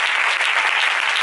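A church congregation in Castellón applauding, dense continuous clapping from many hands filling the room, loud and steady throughout with no break.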